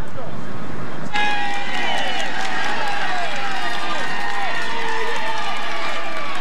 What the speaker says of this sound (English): The crowd are loving seeing him.